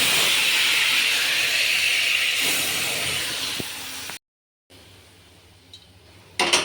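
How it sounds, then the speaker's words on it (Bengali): Cumin, dry chilli and bay leaf sizzle as dal is tempered, a loud, steady hiss that fills the first four seconds, then cuts out briefly before a quieter hiss returns. "এখানে ডাল সাঁতলাবো জিরে শুকনো লঙ্কা তেজপাতা ফোড়ন দিয়ে দিয়েছি"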